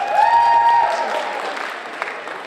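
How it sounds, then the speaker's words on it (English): Applause and light cheering from the audience at a school storytelling competition, rising under a sustained vocal whoop and then thinning into scattered claps as it fades. "Give yourselves a round of applause."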